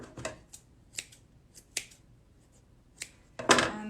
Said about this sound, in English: just cut off where it's long or where you don't like it